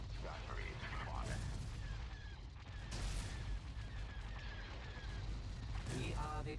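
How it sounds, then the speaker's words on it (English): Star Destroyer turbolaser batteries fire in a Star Wars space battle game, a rapid barrage of booming blasts and streaking laser shots layered over a continuous rumble, with voices heard briefly. "All batteries fire."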